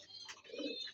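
A racing pigeon gives a brief, soft coo, faint and close, lasting about a second with no talk.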